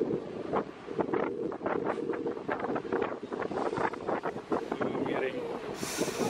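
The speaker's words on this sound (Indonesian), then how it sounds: "anginnya kencang." Strong wind buffets the microphone in a steady rush near the sea, with waves and the hum of a boat beneath it, during a bus trip to Bali; it is loud and continuous, and a brief brighter gust comes near the end.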